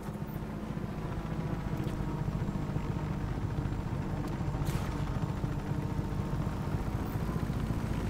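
Helicopter in the video game Just Cause 3 gives a steady, loud rotor and engine drone, a dense low rumble held throughout with faint higher whooshes.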